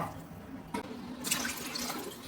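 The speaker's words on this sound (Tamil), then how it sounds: "கொஞ்சம் ஃபாஸ்டா ஊத்துங்க தண்ணிய" Water is poured by hand from containers to fill a small children's swimming pool, a steady watery splashing that swells into a louder gush partway through, with no talk over it.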